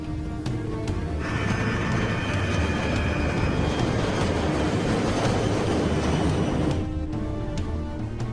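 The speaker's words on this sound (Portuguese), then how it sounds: "O White Knight 2 e sua carga aceleram pela pista" The White Knight 2 carrier aircraft, loaded with its payload, accelerates down the runway, producing a loud, continuous engine roar that swells in and holds steady for several seconds before easing off near the end.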